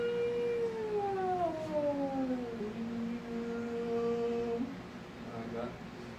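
A voice imitates a wailing siren, long sliding tones that fall and hold, fairly loud and close, with faint talk near the end.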